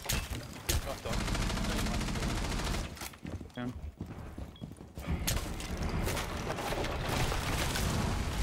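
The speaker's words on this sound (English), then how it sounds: "Can I just start shooting through the floor and get kills?" Shotgun blasts fired through a floor in a Ubisoft shooter game, loud repeated bursts in quick clusters with a brief lull midway before the firing resumes.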